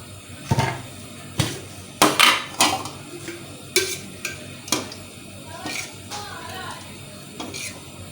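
A kadai is set down with clanks and knocks of cookware and utensils, followed by scattered metallic taps and scraping as ghee is added, each clatter sharp and close in a quiet kitchen.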